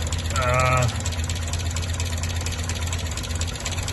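A Chrysler Alpine engine idles steadily close by after its idle jets were adjusted. A low, even rumble runs throughout, and a brief higher whine is heard near the start.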